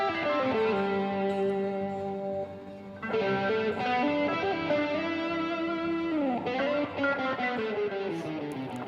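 A distorted electric guitar plays sustained chords and a melodic riff from a 1972 song, with a fuzzy, saturated vintage rock tone from a distortion pedal and no voices.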